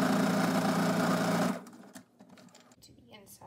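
A sewing machine stitches straight down the middle of cotton fabric with a loud, steady, close whir for about a second and a half, then stops, leaving quieter handling noises.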